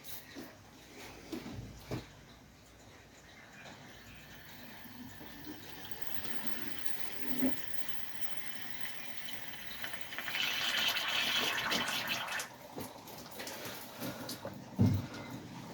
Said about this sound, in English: let's pour water in through that bit instead